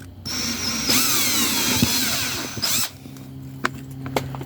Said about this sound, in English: one hole right here with the 1/16 inch drill bit.